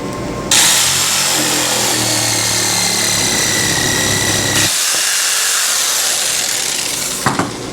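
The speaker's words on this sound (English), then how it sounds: "simply using a jigsaw to make your radius cut right on the grid work" A jigsaw makes a radius cut through an AZEK VAST PVC paver, giving a loud, steady, buzzing saw whine that runs for several seconds, changes tone partway through as the blade load shifts, then winds down with a couple of clicks.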